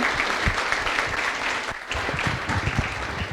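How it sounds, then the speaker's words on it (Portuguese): Live audience clapping, a full, moderately loud wash of many hands sustained for a few seconds with a brief dip midway, close and continuous without talk. "Pode aplaudir a Sherida"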